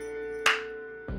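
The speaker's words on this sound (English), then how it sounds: "that's the sound of this. The name badge going up." GameMaker 8 game sound of a name badge rising: a single short bright burst that fades quickly over a steady background tone, followed by another low entry.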